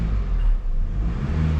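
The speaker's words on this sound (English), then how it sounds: "Give it a little rev." A Mercedes E220d diesel engine gives a short rev, a deep, steady low rumble heard from close by with no talk over it.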